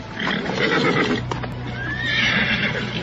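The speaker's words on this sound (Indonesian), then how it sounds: "tidak jauh dari padepokan 2 ekor kuda berderap dan kemudian berhenti." Two horses gallop in close with clip-clop hoofbeats, then pull up and stop, followed by a loud neigh and whinny near a hermitage, with no voices over it.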